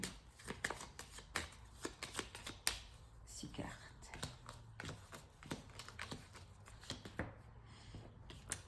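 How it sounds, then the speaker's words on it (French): Oracle cards being shuffled and drawn, soft crisp riffling and snapping card sounds in quick irregular bursts close to the listener, with quiet speech in the background. "Alors, je vais prendre 6 cartes."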